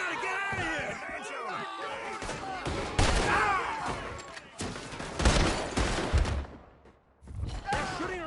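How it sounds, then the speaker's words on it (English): Gunfire in Red Dead Redemption 2, a rapid fusillade of shots cracking amid shouting voices during a chaotic escape, loud and close with bursts continuing under yelled dialogue. "They're shooting right at me!"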